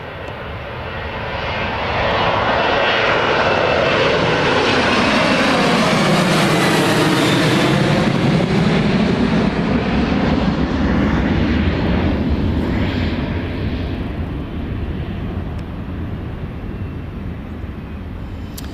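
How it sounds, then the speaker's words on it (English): A Jet2 Boeing 737-800 departs from runway 25 at Newcastle Airport, its engine roar swelling loud and near over several seconds, then sweeping past and slowly fading into the distance. "So that's Jet2's 737-800 just departed there"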